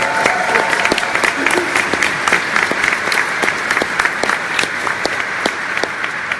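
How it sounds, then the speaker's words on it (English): An interview audience in Glasgow claps vigorously for several seconds, many sharp individual claps standing out within a steady roar of applause and some faint cheering. "Come on, cheer!"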